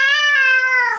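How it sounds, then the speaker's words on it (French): A house cat lets out a single long, steady meow up close, loud and bright, fading slightly as it ends, with nothing else around it. "C'est mon chat, Apollo"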